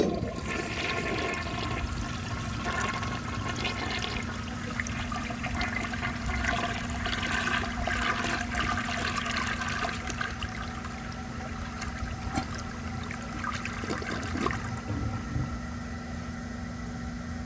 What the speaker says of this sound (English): let's give this toilet a flush and see how it does on tests